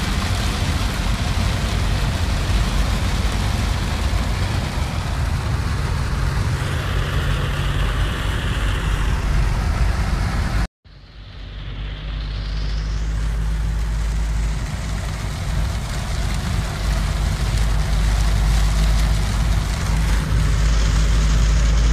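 Dense, continuous storm rain roars over a running vehicle on the road, loud and steady, briefly cut off midway before resuming with the same heavy downpour and engine hum.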